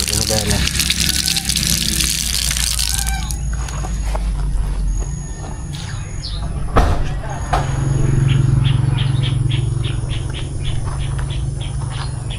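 Water gushes steadily from an outdoor faucet at a campsite, a continuous splashing rush that swells after a brief pause, with faint chirps and a voice speaking over it.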